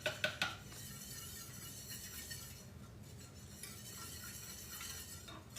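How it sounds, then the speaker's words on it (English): Whisk clinking against a pot as all-purpose flour is stirred into whole milk, a few sharp metallic taps up front and then a soft, continuous scraping swirl, faint and close, with no talk. "I'm going to whisk this in a little bit at a time because I don't want lumps"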